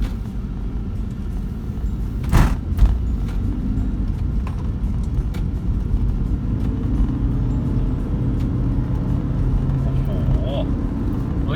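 Toyota Prius 1.8 Hybrid accelerating on a road, heard from inside as a steady low rumble of engine and road noise, with a couple of brief knocks early on and someone talking over it.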